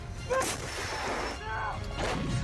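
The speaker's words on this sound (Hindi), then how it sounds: "रूस की ये तोप 37 किलोमीटर तक परमाणु बम से भरे गोले ऐसे ही दाग सकती है" Russian artillery cannon firing shells, heavy booming blasts in a dense, loud rumbling mix, with repeated bursts and no clear pauses between them.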